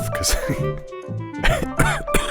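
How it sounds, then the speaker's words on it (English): A held-in, muffled cough bursts out between stretches of someone talking during a hardcore Minecraft session, short and stifled rather than a full open cough. "That sound was me holding in a cough"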